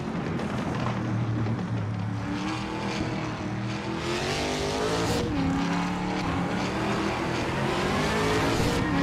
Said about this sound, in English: Dale Earnhardt is driving a 2021 Chevrolet Camaro in the Trans Am class